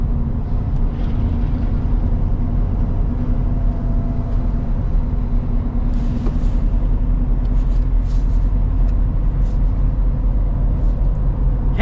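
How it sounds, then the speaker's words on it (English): Constant low diesel rumble of a new Ford Super Duty pickup on the move, heard from inside the cab, steady and loud throughout with faint road noise. "It's really impressive just how much power this truck has."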